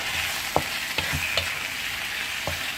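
Squid being stirred in a frying pan with sautéed spices for spicy black squid: a steady soft sizzle runs throughout, broken by a few sharp scraping clacks of the spatula against the pan, close and moderately loud.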